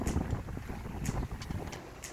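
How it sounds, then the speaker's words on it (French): Wind buffets a First 22 sailboat on the ocean, gusty rushing noise with low rumbling and occasional sharp splashes or slaps against the hull. "On a pris un petit coup de vent."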